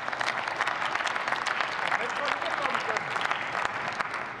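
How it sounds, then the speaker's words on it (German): Applause in the German Bundestag during a parliamentary debate, a dense sustained burst of clapping from many members in the chamber, lasting several seconds. "Ich freue mich ja über den Beifall bei den Linken"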